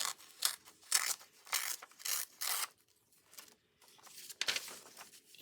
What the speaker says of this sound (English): Let's just tear it just a little bit so we don't get caught in the borders or in our little rings.